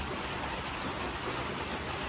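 Steady rain falls outside a porch pavilion, a continuous soft hiss of drops with no breaks or voices.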